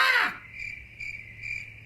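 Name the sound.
voice imitating a crow cawing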